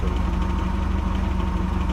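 A Flipper 640 boat engine idles with a low, even, rapid thrum and slight pulsing vibration, close and steady for a couple of seconds.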